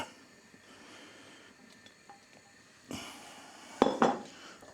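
Tomato goes into a pan for a wartime-style curry, with quiet metallic utensil scrapes and taps building to a couple of louder clanks and a soft squelch near the end.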